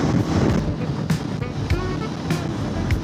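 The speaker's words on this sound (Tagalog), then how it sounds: "Lakas ng hangin dito, grabe." Loud, blustery wind in open country of rice fields and mountains in Bataan buffeting the microphone with a continuous low roar and sudden gusty thumps, no voices.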